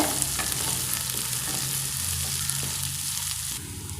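Green chillies and curry leaves fry and sizzle in oil in a pan, a steady close hiss with light stirring scrapes throughout, no voices.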